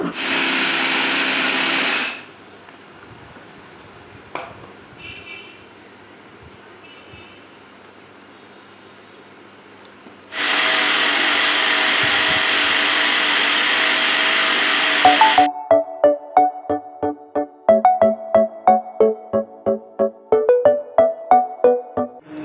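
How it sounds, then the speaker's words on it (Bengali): Electric grinder blending garam masala spices in a home kitchen: loud whirring bursts start and stop with quiet gaps between them, then give way to a rapid series of sharp rhythmic pulses as it is run in short jolts. "অনেকক্ষণ ধরে আমি মশলা ব্লেন্ড করলাম এটা হলো গরম মশলা"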